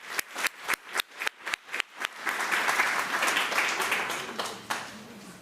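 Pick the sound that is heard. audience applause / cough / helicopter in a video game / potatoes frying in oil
audience applause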